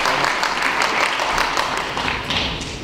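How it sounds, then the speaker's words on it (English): An audience at a conference on security for Ukraine gives sustained, dense applause, many hands clapping steadily and loudly for about three seconds without a break. "Let's give them a round of applause."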